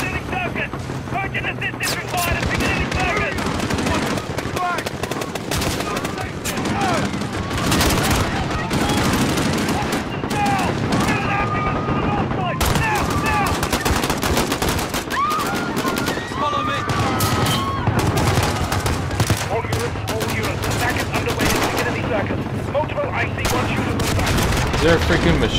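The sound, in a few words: machine gun fire in the video game Call of Duty: Modern Warfare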